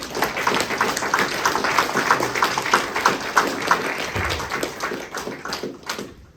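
A church congregation clapping for the Lord, rhythmic and lively hand claps from many people, steady and close, fading out at the end.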